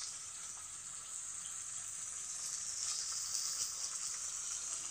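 Fish heads fry in a pan with a continuous, even hiss of sizzling oil, steady and moderately close, with no voices.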